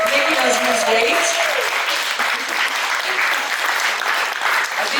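An audience at a live ethnic cooking event applauds the MC with dense, steady clapping throughout; a voice speaks briefly at the start over it.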